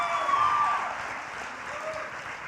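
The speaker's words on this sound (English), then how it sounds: "how about another round of applause for Jacob?" Steady applause from a crowd at a senior awards ceremony, fairly loud and continuous, slowly tapering off across the clip with no talking over it.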